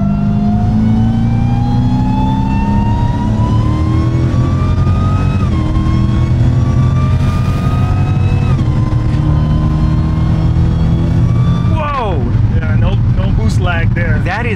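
Dodge Charger Hellcat with intake, pulley and ECU modifications revs loudly and continuously, engine pitch climbing steadily then dipping between pulls, close up with people talking over it.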